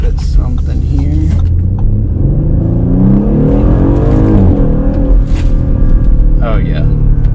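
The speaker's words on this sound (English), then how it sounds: "For a turbo motor, it sounds very throaty." Turbocharged engine of a 2021 Audi SQ5 revs and accelerates with a throaty, climbing roar, loud and near, and a person talks over the engine noise.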